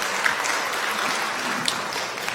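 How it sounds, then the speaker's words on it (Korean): A church congregation at a Sunday service claps warmly to welcome visiting members, a steady, even wash of applause throughout. "여러분들 따뜻한 환영의 박수 부탁드립니다"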